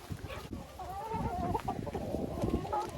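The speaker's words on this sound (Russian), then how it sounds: "А это курочки-болотки." Several hens cluck and murmur continuously close by, a busy overlapping chatter with no talking.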